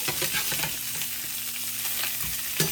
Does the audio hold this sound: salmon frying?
yes